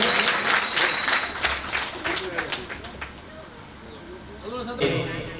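Applause from a village gathering greets an honoured elder during a religious procession event, dense clapping strongest at the start and tapering off over a few seconds, with no talk over it.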